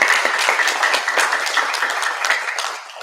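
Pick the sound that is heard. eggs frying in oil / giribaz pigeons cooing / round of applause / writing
round of applause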